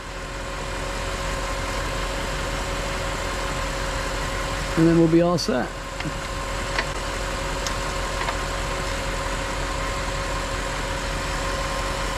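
Audi S8 engine idles with a constant low hum under a voice, broken by a short clatter of tool noise partway through.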